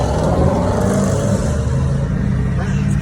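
A Range Rover engine revving loudly and steadily at close range, a deep, continuous roar that lasts the whole moment without pause.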